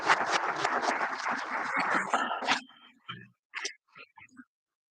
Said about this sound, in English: One more round of applause for all of our honorees this year.